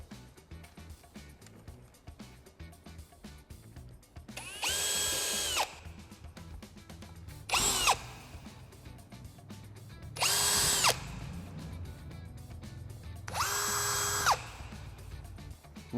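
A power drill pre-drills screw holes through an acrylic shower wall channel, whirring in four separate bursts of about a second each, with quiet pauses between them and a low background hum.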